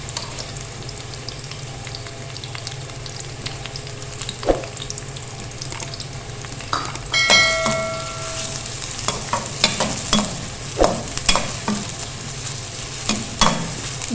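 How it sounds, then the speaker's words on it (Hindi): Finely chopped onions, two medium ones, fry in a tablespoon of oil for a dhaba-style mash daal. A steady close sizzle runs throughout, broken by scraping stirs and clatters that grow busier in the second half. "इसको हमें अच्छे से फ्राई करना है, गोल्डन ब्राउन सा करना है।"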